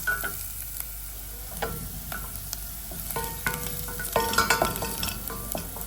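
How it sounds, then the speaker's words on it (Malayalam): Sliced onions for a Kerala egg curry fry in hot oil with a continuous sizzle, while a spoon scrapes and taps the pan at intervals, growing busier toward the end. "അങ്ങനെ ജസ്റ്റ് ഒന്ന് സവാള വഴറ്റി മാത്രം എടുക്കുകയാണ് ചെയ്യുന്നത്"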